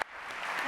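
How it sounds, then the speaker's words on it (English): An audience applauds panelists at the opening of the Global Solutions Summit 2024, a brief, steady wash of clapping that swells slightly over under a second. "Give them all a round of applause."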